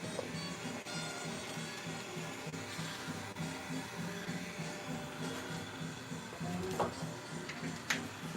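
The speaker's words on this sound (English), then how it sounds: "do a little bit of sanding on it right now." Sequoia wood is sanded on a lathe, making a steady, quiet mechanical whir and hum with a few faint clicks and scrapes and no talking.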